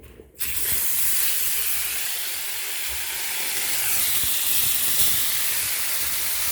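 Two pieces of salmon boiling in a pot, a loud hiss of steam and bubbling that starts abruptly and holds steady at close range.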